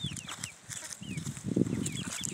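Several hens let out by the farm door cluck and chirp in short, overlapping bursts at close range, with a louder flurry near the end and no talk over it.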